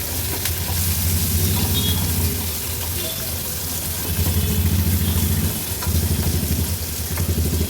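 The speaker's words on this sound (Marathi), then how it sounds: "गॅसची फ्लेम लो करून कांदा थोडासा तेलावर परतून घ्यायचा आहे।" Sliced onion and green chillies sizzle in oil over a low gas flame for a Maharashtrian veg thali, a continuous close frying hiss with faint stirring scrapes.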